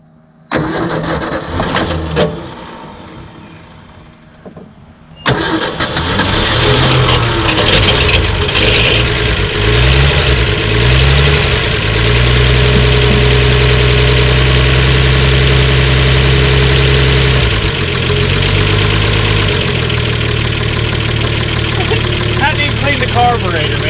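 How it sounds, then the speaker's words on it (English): A classic Ford F100 pickup, parked for 40 years, cranks and catches, then settles into a loud, steady, close-up idle with a low throbbing rumble that runs unbroken to the end. "fire the truck back off, let her ride a little bit, warm up"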